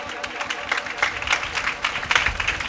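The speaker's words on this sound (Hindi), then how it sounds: "एक बार फिर रूह उसके लिए जोरदार तालियां बजाइएगा" A church congregation at a Sunday prayer meeting breaks into applause, a dense, continuous patter of many hands clapping at moderate distance, with a faint murmur of voices underneath.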